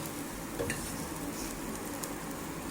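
Ghee sizzles steadily on a hot tawa under a roti cooking on the griddle, a continuous, fairly loud frying hiss with a few faint scrapes and no talking.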